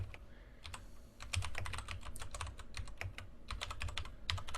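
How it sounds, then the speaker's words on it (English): Rapid bursts of clicks from a clicky computer keyboard being typed on, close and fairly loud, with irregular rhythm and short pauses between runs of keystrokes over a low background hum. "You can really hear that picking up on the mics, because I have that clicky keyboard"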